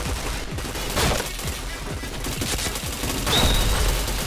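Rapid bursts of gunfire in the online shooter Point Blank, dense overlapping automatic shots and impacts running steadily throughout at close, loud level, with no talk.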